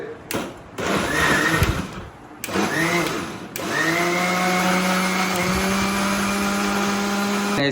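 A kitchen mixer grinder whirs loud and close while grinding KitKat for cake batter, in two short pulsed bursts followed by a steady, high whining run, with someone speaking briefly before.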